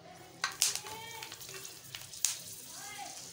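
Whole chillies drop into hot oil left over from frying pakoras for a tadka, giving soft crackling sizzles with a few sharper pops and spatters, fairly quiet and close, with faint voices in the background.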